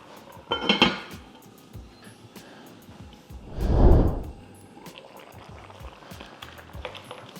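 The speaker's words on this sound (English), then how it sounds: "I'm going to put the lid on and we will simmer this for a few minutes" A lid set on a pot of prawn and mussel curry, with a metallic clatter near the start and a louder, heavier knock of the lid settling a few seconds later, then quiet low bubbling.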